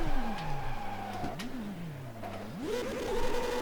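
A CART Extreme race car in the AMS sim racing game, driven at Salvador, with its engine note climbing and dropping through gear changes, revving hard, easing off, then building again, loud and up close with no voices.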